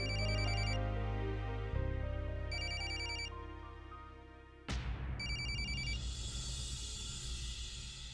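A mobile phone ringtone rings out loudly in a classroom, a repeating electronic melody with bright, tonal pulses that changes pattern partway through and keeps sounding without any talk over it.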